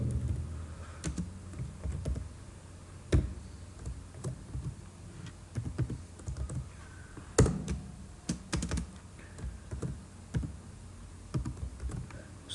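Keys clatter on a computer keyboard as HTML table code is typed, an irregular run of close clicks and taps with short bursts and pauses over a quiet room.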